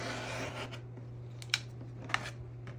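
Scissors cut fabric pieces for a quilt block in a quiet room, giving a few soft, crisp snips over a low steady hum.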